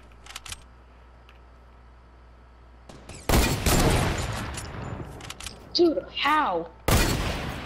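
Gunfire in the video game Fortnite bursts out loud and dense after a quiet stretch, with a second sharp volley near the end, while a player talks over the shooting.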